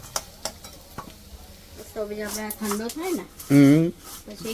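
Poha chevdo loaded with dry fruits, roasted chana, cashews, pistachios and almonds, stirred in a pan, with scattered scraping clinks and faint sizzling under a man's speech and humming.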